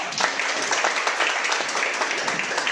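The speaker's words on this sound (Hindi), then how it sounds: "तालियां हो जाए।" An audience at an indoor business gathering applauds, a dense, steady burst of many hands clapping at close range, loud and continuous throughout.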